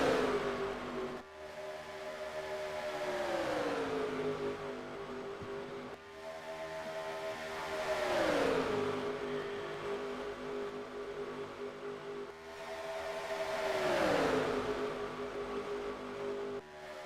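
Racing truck engines roar in a racing video game on a digital speedway, a loud continuous drone that climbs and falls in pitch three times as trucks accelerate and shift through a dogleg, with no speech.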